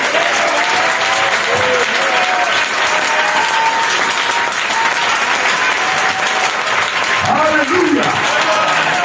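A church congregation at a worship service applauds loudly and steadily throughout, with scattered shouts and voices rising over the sustained clapping.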